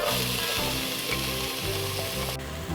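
Half a small onion, cut into small cubes, hits a hot pan and sizzles loudly and steadily, with faint rhythmic stirring underneath and no voices.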